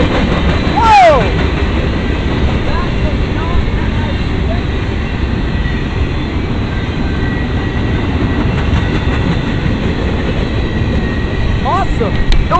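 A CSX northbound work train led by a C40-8WM locomotive passing in Carson, Virginia, heard as a steady heavy rumble with wheel noise throughout and a brief horn-like tone near the start, with people talking over it.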